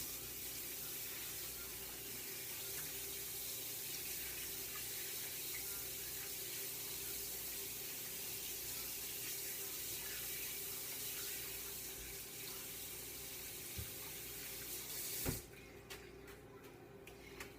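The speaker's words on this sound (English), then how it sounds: "I'm going to wash my hands real quick." A tap runs steadily under hand washing, a continuous close hiss of water lasting the whole stretch before it cuts off near the end, followed by a few faint clicks.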